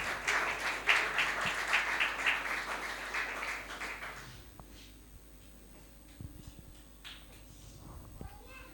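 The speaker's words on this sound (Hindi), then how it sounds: "ज़ोरदार तालियां बजा दीजिएगा" Applause from a congregation at a Friday church sermon meeting, dense clapping for about four seconds, then fading into quieter room sound with scattered claps and shuffling.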